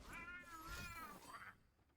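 A cat meows in two drawn-out, wavering cries close to the microphone, the second trailing off into near silence.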